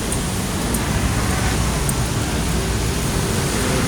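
Steady, dense wash of road traffic and drizzle at a busy street in Ayala, Makati during rainy weather, a continuous broadband roar with no distinct passes standing out.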